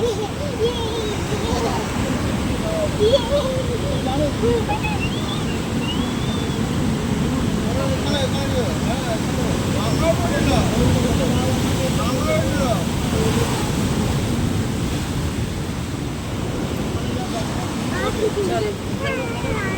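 Sea waves roll in at Mandarmani beach as the tide rises, a constant loud wash of surf mixed with wind buffeting the microphone, while people talk over it.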